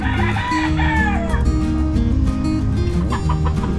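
Chickens cluck busily and a rooster crows loudly nearby, the calls overlapping continuously with no pause.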